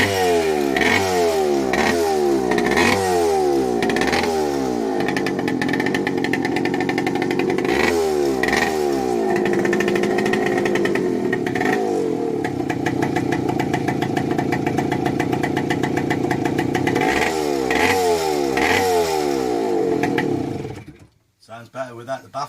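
A 1985 Kawasaki KE100 two-stroke motorcycle running without its exhaust baffle, loud and close, with repeated throttle blips and revs over a raspy idle before it cuts off near the end.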